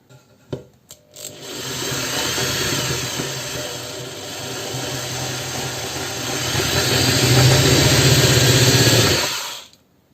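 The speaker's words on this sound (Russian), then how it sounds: "сверлим на малых оборотах, чтобы случайно не просверлить фанеру широким сверлом насквозь" A power drill boring into plywood at low speed whirs steadily for several seconds after a few brief clicks, its tone rising slightly near the end before stopping abruptly.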